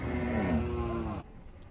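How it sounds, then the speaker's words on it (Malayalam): Kangayam breed cows and bulls at a cattle market give a single loud, drawn-out low that stops abruptly, leaving quiet market background. "ഇതൊക്കെ നല്ല ക്വാളിറ്റിയുള്ള കാങ്കയം പശുവാണ്, മറ്റേത് കാളയുമാണ്."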